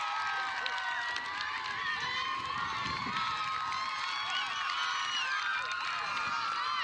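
A softball game crowd cheering after a two-run single for Geneseo, a dense, sustained roar of shouting and whooping from many voices, steady and loud throughout, with a commentator's speech underneath.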